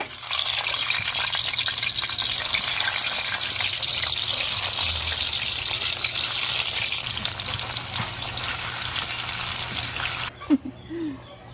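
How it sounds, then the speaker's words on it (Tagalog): Longganisa sausage sizzles in a frying pan, a dense steady crackle that stays loud and close for about ten seconds, then cuts off with a few brief clinks. "iluto na natin itong ating longganisa"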